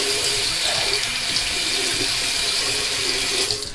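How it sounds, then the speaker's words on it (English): Hot water pours from a tap into a shaving bowl, a close, steady splashing rush that continues evenly, then trails off as the flow is shut at the end. "What I'm going to do is put some nice warm water in one of my bowls, hot water."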